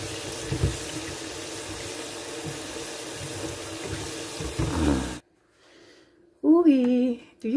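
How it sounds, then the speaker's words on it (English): A kitchen sink tap runs water for washing dishes, a steady hiss for about five seconds before it shuts off, followed by a brief pause and then a voice speaking. "It's a little bit of dishwater."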